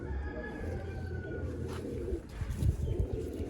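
Fakir Gul pigeons coo softly, low throaty calls close by under a faint high tone and light background noise, with a brief voice murmuring.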